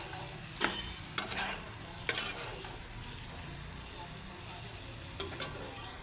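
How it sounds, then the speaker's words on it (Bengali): Potatoes dusted with turmeric fry in a pan for a radish-greens recipe, with a soft, low sizzle. A spoon scrapes and clatters against the pan in a few sharp, separate strokes, close by and fairly quiet. "দিয়ে এখন আমি আলুগুলো ভাজবো"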